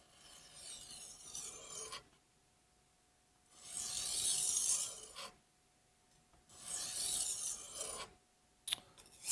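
A Mercer kitchen knife scrapes across a sharpening stone in two long, even strokes with a gritty rasp, close and clear, followed by a brief clack at the end.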